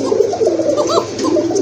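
A pink-beaked pigeon coos nearby in soft, rolling low calls, with a steady murmur in the background.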